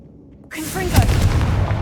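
A Confringo blasting spell goes off in Hogwarts Legacy with a sudden loud fiery burst and crackling boom, which trails into a sustained rumbling roar that stays strong to the end.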